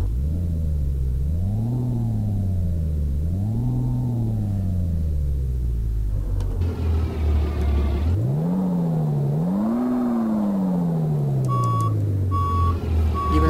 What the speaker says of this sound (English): Even a different backup sound.